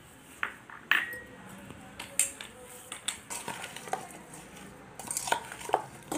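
A spoon scrapes and clinks against a steel bowl while mixing ivy gourd chutney with chili powder, salt, cumin and mustard seeds, giving scattered close metallic taps and rings over soft stirring.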